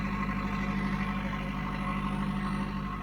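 A brand-new Stephill generator powered by a Kubota 2.2 litre diesel engine runs steadily nearby, a low, even drone with a constant hum and no break across the clip.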